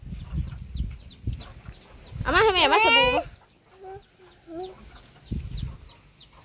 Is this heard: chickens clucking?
yes